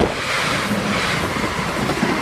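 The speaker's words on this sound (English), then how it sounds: "One Whiskey 29 Southwest train service, London Waterloo to Weymouth" A South Western Railway London Waterloo to Weymouth service passing Stoke No32 level crossing in Dorset, a steady close rumble of wheels and passing carriages with wind buffeting, loud throughout.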